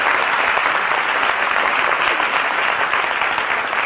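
Studio audience on a daytime talk show applauding, a dense, steady wash of clapping throughout, loud and close with no pauses.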